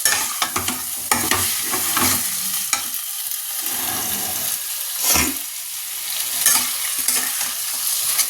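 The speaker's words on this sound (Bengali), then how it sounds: "এইবার শুধু কষে যাবে, যতক্ষণ না রান্না হচ্ছে ততক্ষণ শুধু কষিয়ে যাব" Chicken pieces are stirred and fried in a pan, with repeated close scraping strokes over a constant loud sizzle and short pauses between the strokes.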